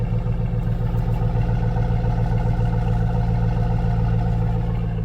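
A GMC Yukon on the GM GMT800 platform running on its stock factory exhaust, a steady, throaty, even engine drone close up and fairly loud, with a low pulsing note and no one speaking.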